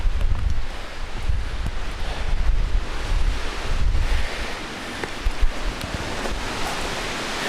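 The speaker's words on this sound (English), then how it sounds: "I mean, you can hear the wind just whipping." Strong wind gusts roar steadily across an exposed mountainside near Katahdin, with continuous low buffeting that rushes and swells without pause, loud and close, and no voices heard.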